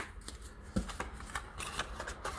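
A deck of playing cards is cut and handled close by, giving quiet riffling and snapping card sounds with soft clicks.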